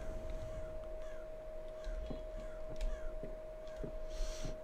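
A crow caws several times in the dark horror game Rise of Insanity, with harsh, moderately loud calls spaced over a steady electronic hum and a low background drone.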